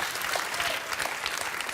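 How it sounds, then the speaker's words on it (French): A television game show studio audience applauds two contestants after a won duel, a dense, even wash of clapping at moderate level that carries on without a break. "On va applaudir très fort nos deux candidats."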